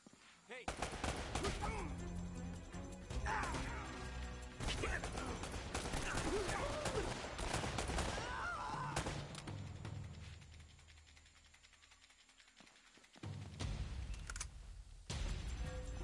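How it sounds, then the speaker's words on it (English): Gunfire in Uncharted: The Nathan Drake Collection, with dense bursts of shots, mechanical clatter and a few booms, loud and continuous, easing off briefly near the end, with voices mixed in. "They're shooting at you too, you know."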